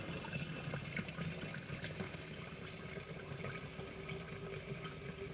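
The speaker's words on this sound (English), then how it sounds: "we're going to wash the butter in cold, cold water" Fresh homemade butter gets washed by hand in very cold water, giving continuous sloshing and trickling with soft splashes throughout.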